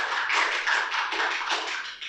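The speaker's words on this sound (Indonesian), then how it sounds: "Tepuk tangan sekali lagi." Audience applause at a political interview event: a short, steady burst of close clapping lasting about two seconds, with no voices.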